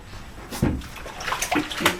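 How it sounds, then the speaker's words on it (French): Water splashing from a handheld shower in a bathtub, close and continuous with uneven bursts of spray and slosh. "Je vais prendre la douche téléphone."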